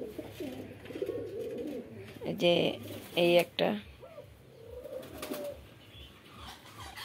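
Pigeons coo softly in a pigeon house, with low repeated calls sounding nearby while a person talks over them in short bursts.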